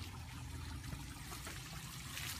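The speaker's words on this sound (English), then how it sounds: "So check out this waterfall." A garden waterfall at a house trickles and splashes steadily, a continuous close wash of running water with no talk.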